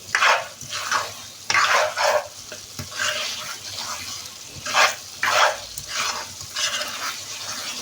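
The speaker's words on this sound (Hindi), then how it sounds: "आपने इसको अच्छे से मिक्स कर लेना है" Creamy chicken malai boti mixture stirred in a pan over a raised flame: repeated scraping, sizzling strokes in bursts of about half a second each, close and fairly loud, with no talking.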